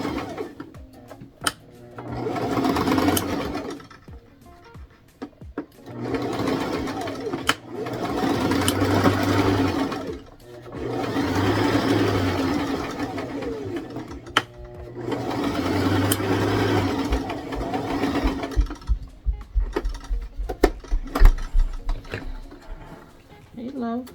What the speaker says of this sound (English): So I'm gonna do backward stitches